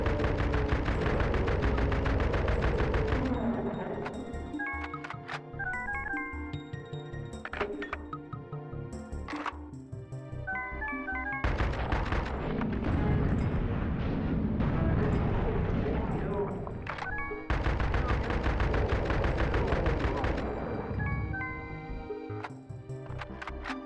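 Shotgun fire in the first-person shooter Doom comes as loud, repeated blasts and sharp bursts in clustered volleys, layered over tonal game music, with short quieter gaps between the bouts of shooting.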